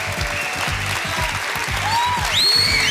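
A studio audience at a televised Spanish-language show claps loudly and continuously, the applause swelling slightly toward the end, with whistle-like cheers rising above it.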